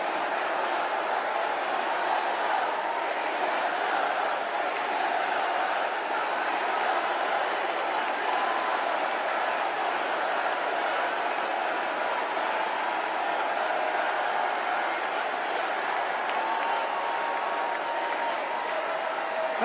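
A large Democratic National Convention crowd gives Joe Biden a long, sustained ovation, dense steady applause with scattered cheers that holds at an even level throughout.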